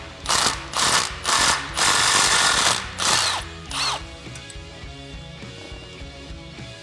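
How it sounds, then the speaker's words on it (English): An 11mm socket wrench ratchets on a bracket bolt of a Jeep Wrangler JK during a suspension install: five loud, close bursts of rapid clicking, then quiet with soft background music. "you're gonna use an 11mm socket and an 11mm wrench"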